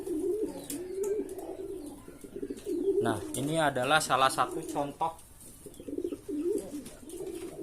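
A pigeon coos in repeated rolling phrases close by, with someone talking over and between the calls.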